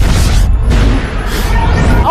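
A loud, rumbling explosion sound effect standing in for the Big Bang: a dense, roaring low boom that churns on without a break for about two seconds.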